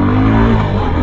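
A motorcycle pulls off at the start of a ride, its engine loud and close with a steady rising drone as it accelerates, no talk over it.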